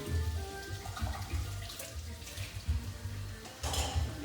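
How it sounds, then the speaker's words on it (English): Cups are rinsed under a running kitchen tap, a steady close splash of water with intermittent clatter and shifting bursts as the cups are moved through the stream. "Whatever cups I got around here, I'll start rinsing them."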